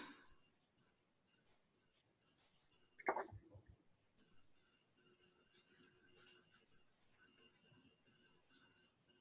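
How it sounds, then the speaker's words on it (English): Crickets chirp in steady repeated pulses through an evening meeting's background, faint but continuous, with a brief louder knock or click partway through and no talk over it. "Do I actually hear crickets?"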